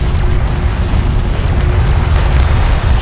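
A strike craft blows up in Homeworld: Deserts of Kharak, a loud, sustained, rumbling explosion with dense low-end roar that fills the whole moment without any speech.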